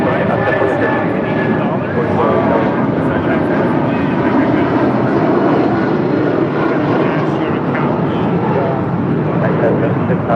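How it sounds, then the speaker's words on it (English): A United Airlines Boeing 757-200 departs for Newark, a loud, steady jet roar with broadband rumble holding throughout without letup. "That is United Airlines 1076 departing to Newark on 757-200"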